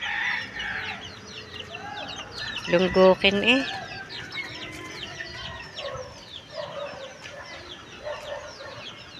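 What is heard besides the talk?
chickens clucking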